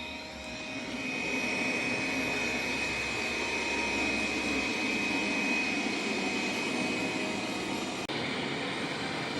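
A Dreame D9 Max Gen 2 robot vacuum with 6,000 Pa suction cleans a floor, giving a loud, steady motor drone with a high whine that shifts slightly near the end.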